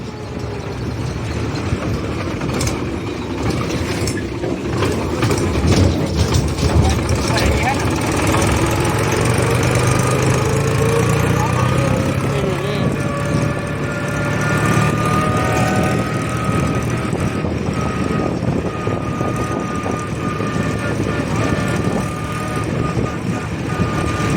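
A tractor engine runs steadily throughout, a continuous low mechanical drone with a faint higher whine, fairly loud and close, with voices talking over it.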